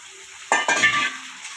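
Masala of onion and tomato sizzles and fries in a pan, starting abruptly with a loud hiss that settles into a steady crackle as it is stirred.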